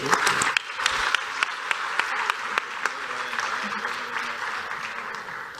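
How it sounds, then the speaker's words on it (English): A crowd applauds steadily, a dense wash of clapping with a few sharper claps standing out, continuing for several seconds. "Give them a round of applause"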